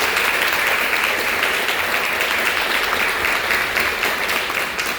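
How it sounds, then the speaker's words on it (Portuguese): A church congregation applauds during a sermon, with steady, dense clapping holding loud and even throughout, with no talk over it. "Pode aplaudir o Espírito Santo."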